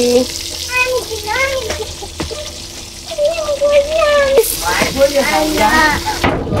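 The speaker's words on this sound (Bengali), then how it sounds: "এই যে ডিমটা এখন ভেজে নিচ্ছি" An egg fries in a pan with a steady background sizzle. Voices talk over it throughout, and a sharper burst of noise comes near the end.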